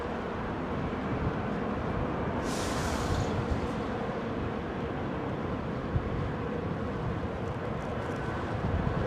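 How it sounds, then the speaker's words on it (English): An Icelandair Boeing 737 MAX in new livery taxis at London Heathrow on a winter de-icing day, heard as a steady, distant broadband engine rumble and hiss that stays even throughout. "Nice Iceland Air new livery 737 Max."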